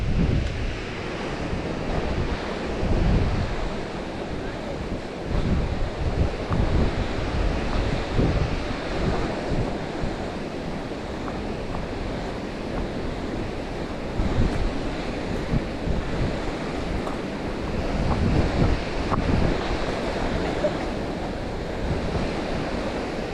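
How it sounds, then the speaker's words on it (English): Thornton Force waterfall with heavy water pouring over its top, a steady, loud, broadband roar that never lets up, with wind buffeting the microphone and no voices. "Loads and loads and loads of water billowing over there every second."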